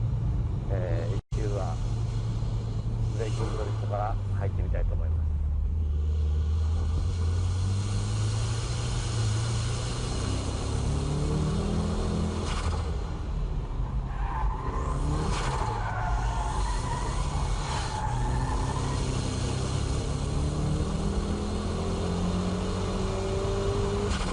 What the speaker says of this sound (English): I'll demonstrate the braking drift with this K-Office S14